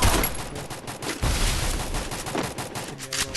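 Rapid gunfire rattles in a shooting video game, dense overlapping bursts loud and close for the whole stretch.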